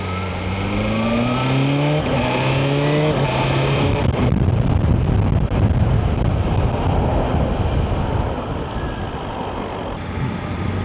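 A 2025 BMW M 1000 XR tall sports motorbike with a roughly 200 horsepower engine revving hard: the note climbs through several sharp rises, then settles into a loud, rough roar mixed with heavy wind buffeting, close by and without talk.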